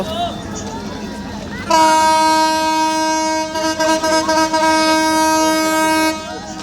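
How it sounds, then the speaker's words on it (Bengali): A train rumbles along the tracks as its loud horn blares in one long sustained blast before stopping. "ট্রেন এই লাইন দিয়ে যাবে"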